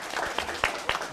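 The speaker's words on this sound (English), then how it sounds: "Give yourselves a round of applause." Workshop participants clap in a brief, sparse round of applause, with a handful of distinct hand claps standing out over a soft, steady room background.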